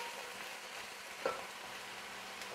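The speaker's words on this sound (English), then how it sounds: "you need to fry it until the onion is brown, golden brown color" Onion frying in oil for chicken biryani, a steady close sizzle with a single light stir or clink of a utensil against the pan partway through.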